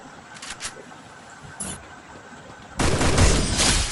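Burst of gunfire from a Counter-Strike ranked match, loud and dense toward the end after a quieter stretch of faint game ambience with a few brief pops.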